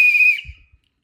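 An MMA timekeeper's whistle gives one steady, shrill blast lasting under half a second, then cuts off, leaving a soft thump or two and silence.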